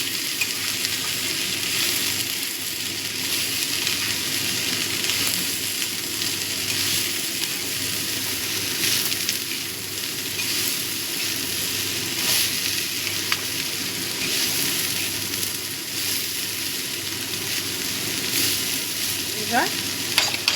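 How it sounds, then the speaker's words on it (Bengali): Bottle gourd peels frying in a pan with turmeric powder, being stirred: a steady, close sizzle with continuous scraping and stirring noises throughout, no voices. "দিয়ে দিচ্ছি হলুদ গুঁড়ো। ভালো করে মিশিয়ে দেবো।"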